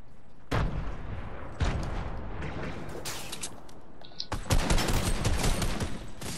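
Gunfire in the video game Fortnite: rapid bursts of shots at close range, dense volleys with a few sharp separate blasts, loud and sustained throughout.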